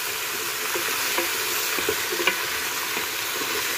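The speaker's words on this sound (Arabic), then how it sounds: "هاكم تشوفوا هنا البصل هاو غادي يتخلى مع الكابويا." Onion fries with kabocha squash in a pan, a continuous dense sizzle and crackle heard up close and alone, with a few soft stirring scrapes.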